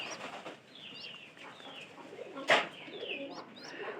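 Pigeon chicks in a loft, fed on maize, giving soft cooing and bird calls close by, with one sharp brief rustle or flap midway.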